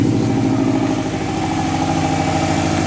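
A Prodrive Subaru STi engine runs just after start-up, idling loud and close with an even, pulsing rhythm and a slight uneven lope, with no one talking.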